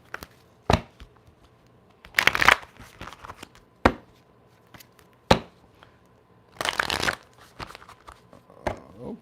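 A deck of tarot cards is shuffled up close in several quick riffling bursts separated by short pauses and lighter taps.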